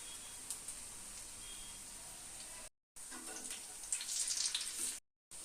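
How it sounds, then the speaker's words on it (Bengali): Flattened rice (chire) chops frying on a low gas flame: a steady, gentle sizzle of oil with soft crackles, close up, briefly cut by two short gaps of silence. "গ্যাসের আঁচটা আমি কমিয়ে দিয়ে ভেজে নেব"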